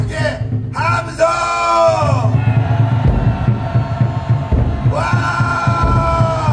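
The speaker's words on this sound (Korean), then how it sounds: "다 크게 함성!" Large rally crowd outdoors erupting in loud shouting and cheering, with sustained roars and yells rising in waves, several surges amplified through a PA.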